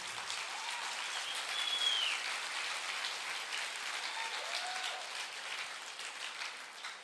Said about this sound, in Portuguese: e dê um aplauso ao Senhor.